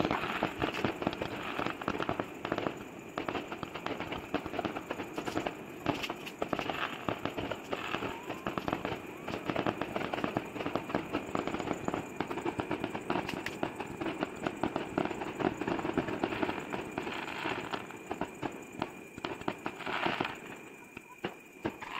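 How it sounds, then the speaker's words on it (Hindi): Sky shot fireworks launched in distant fields keep crackling and popping in a dense, continuous barrage of bursts for over twenty seconds, steady and moderately loud with no talk over them. "आज फिर से किसी ने खेतों में दूर स्काई शॉट जला दिए।"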